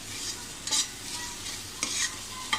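Spice masala fries in a little oil on medium heat, a soft sizzle broken by three scraping stirs of a spoon against the pan, close and clear with no talk.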